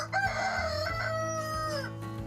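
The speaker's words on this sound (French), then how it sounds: "Un coq qui veut de l'attention." A rooster crows on a farm, one loud, close cock-a-doodle-doo with a rising start and a long drawn-out finish, heard on its own with no talk.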